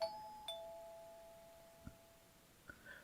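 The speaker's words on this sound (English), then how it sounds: "And then the doorbell rang again." Doorbell chime in the horror video game Corpse Party: Blood Drive, two faint ringing tones that sustain and fade in a quiet room, followed by a couple of soft clicks.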